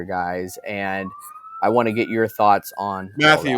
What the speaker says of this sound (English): so sorry for the sirens